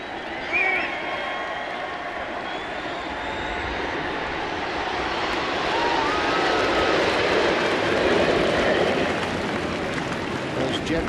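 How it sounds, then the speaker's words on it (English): Snowbirds jets flying over the final day of the Toronto Air Show, heard above a baseball stadium: a sustained roaring jet rumble that builds slowly, mixed with crowd noise and a voice talking. "jet you hear overhead, that's the snowbirds winding up the air show"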